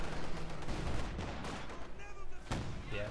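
Muffled gunfire booms from paired anti-tank pack guns firing volleys in a World War II strategy video game, with a continuous rumble and a sharper report near the end, all under background game noise.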